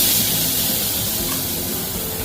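Spice paste of onion, red chilli, garlic and tomato hitting hot oil with cumin and turmeric for a fish curry, giving a loud, sharp sizzle and spray hiss that slowly eases over a couple of seconds.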